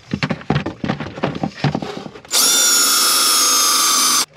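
Cordless combo-kit power drill whirs loudly and steadily for about two seconds after a stretch of clattering handling noise, then cuts off abruptly.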